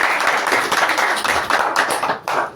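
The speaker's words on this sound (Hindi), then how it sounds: "जोर से ताली बजाइए" A church congregation claps loudly together during a Hindi-language sermon, with dense, steady hand-clapping filling the whole stretch.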